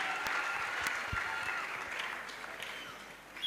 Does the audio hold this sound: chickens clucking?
no